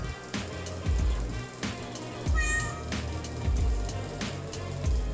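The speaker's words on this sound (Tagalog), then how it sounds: "Ayan, Daddy Dens, meron tayo dito mga pusa." Several cats meowing repeatedly among the cages of a crowded pet market, loud overlapping calls recurring every second or so over a dense, busy background hum.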